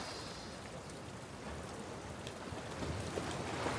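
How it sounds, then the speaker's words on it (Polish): Steady rain falling in The Last of Us Part II, a continuous broad hiss that holds at an even level and swells slightly near the end, with no voices over it. "A, no tak, pada deszcz."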